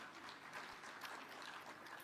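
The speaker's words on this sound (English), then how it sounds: "Please clap for Safaricom Foundation." Audience applause for Safaricom Foundation at a devolution conference in Eldoret, Kenya, a soft continuous wash of many hands clapping, distant and faint, with no talk.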